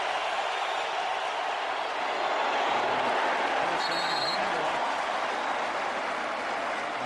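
A large football stadium crowd at an NFL game between the Patriots and Colts in 2008, under an open roof, roars in a steady, dense wash of cheering and noise, with faint announcer talk beneath.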